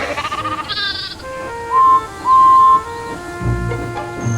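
Several video game sheep bleat in short bursts as they are unloaded, loud and close, with a few sustained electronic tones and faint background sounds.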